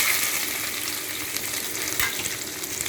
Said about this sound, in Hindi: अब मेरा ऑयल गर्म हो चुका है, मैं इसमें डाल रही हूँ जीरा और डाल दूँगी ताई पत्ता और डालूँगी प्याज।